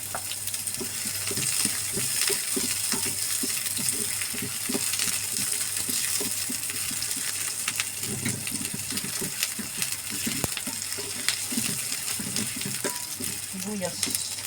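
Ground pork and onion sizzle steadily as they sauté in a hot pan, a continuous crackling hiss with occasional stirring scrapes, close and fairly loud.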